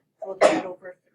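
A student sneezes once, loud and close, in a pre-calculus classroom, briefly cutting through a teacher's speech about the algebra on the board.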